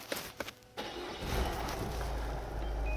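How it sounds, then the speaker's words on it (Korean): A Peugeot 5008 engine starts with a push button, a brief crank around the one-second mark that settles into a steady, low, quiet idle heard close up from inside the cabin. "시동도 한번 걸어보면은 시동은 기어봉 앞쪽에 버튼식 시동으로 사용이 가능하십니다"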